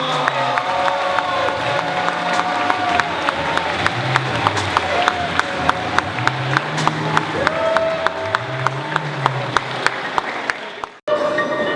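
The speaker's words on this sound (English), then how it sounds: "Give yourselves a round of applause." Audience applause and cheering after a performance at a summer program cultural night, a loud crowd clapping with whoops and rhythmic sharp claps, ending abruptly.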